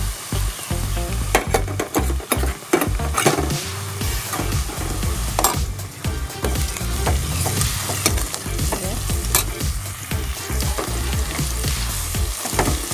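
Onions fry in a pan as garlic paste goes in, with a steady loud sizzle under repeated clatter of stirring and spoon scrapes throughout.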